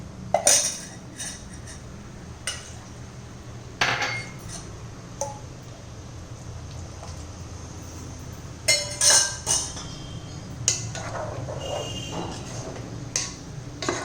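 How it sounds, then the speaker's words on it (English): A spoon clinks and scrapes against a pot as a coconut mixture is stirred into vegetables for avial, giving scattered metallic knocks over a quiet simmering background. "And give it a nice mix, that all the coconut mixture coat with the vegetables."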